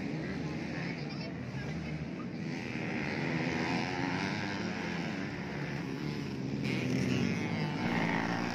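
Motorcycles practice on a local dirt race circuit at Bottolamoro village, Enrekang, giving a continuous, fairly faint buzzing engine drone from a distance that swells slightly, with a voice talking over it.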